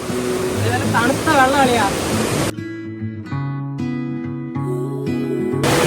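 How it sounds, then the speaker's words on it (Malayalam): A forest river at Ponmudi flows as a steady broadband rush, with people talking over it before the water noise becomes more patchy and broken by musical tones. "നെല്ലിക്കുന്നിലെ നദി"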